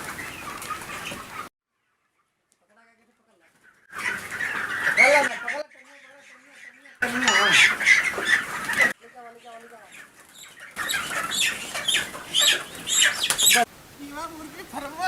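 Chickens cluck and squawk in short bursts close by, separated by silent gaps, with people talking loudly among them in a rustic comedy scene.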